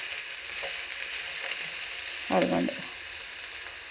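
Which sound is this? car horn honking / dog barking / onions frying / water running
onions frying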